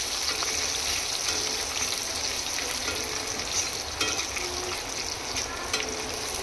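Chopped onions frying in a pan for chicken kofta, a steady close sizzle with scraping stirring strokes and occasional clinks, no talking.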